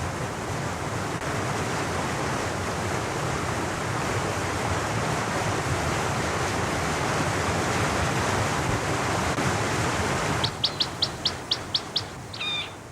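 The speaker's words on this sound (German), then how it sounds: "Im Talgrund ergießt sich der durch das Schmelzwasser angeschwollene Fahnenbach über unzählige Katarakte." The Fahnenbach, a mountain stream swollen by meltwater, rushes over countless cascades in a rocky valley floor, a steady broadband roar; near the end a small bird calls in a quick series of sharp chirps above the water.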